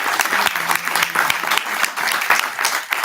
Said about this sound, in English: A big round of applause for Mahendra sir for his